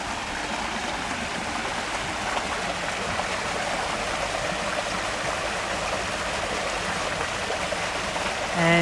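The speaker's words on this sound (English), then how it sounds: "crossing the stream where the falls feeds into the lotus pond" Water from a waterfall and stream tumbles over rocks into a lotus pond in a Japanese garden, a steady, close, even rush and trickle that runs unbroken and alone throughout.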